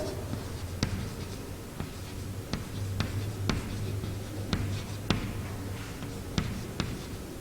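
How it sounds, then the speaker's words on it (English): Pen writing an address by hand on paper, with scratchy strokes and a series of sharp taps as letters are formed, close and fairly quiet against a steady low hum. "So we will write here just"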